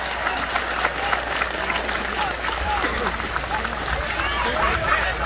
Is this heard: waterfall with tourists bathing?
no